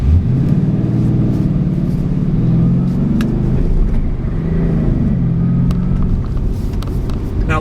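2012 Ford Mustang GT 5.0 California Special with a V8 accelerating, a loud close engine drone whose pitch rises and shifts through gears with a deep rumble throughout.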